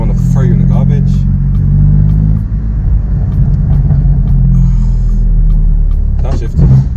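BMW M4 engine rumbling loudly from inside the cabin as it revs through a gear shift, a deep steady drone with a brief dip and surge, while a person talks over it.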